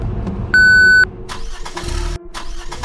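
A car engine failing to start on a deserted road at night, used as a horror-story sound effect: a steady electronic warning tone, then several strained cranking bursts that die out, loud and close.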